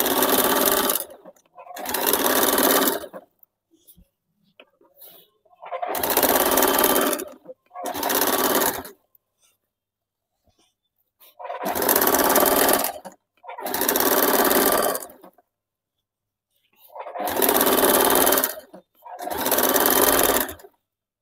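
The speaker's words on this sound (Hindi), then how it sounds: "इसमें हम लोग चाप सिलाई चला देंगे।" Sewing machine running a chain stitch along a petticoat seam, coming in short whirring bursts of about one to two seconds with quiet pauses between them, close and loud, no talk.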